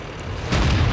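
An 85mm tank gun fires in World of Tanks, a single heavy boom that hits hard halfway through and rolls on as a loud, deep blast with no talk over it.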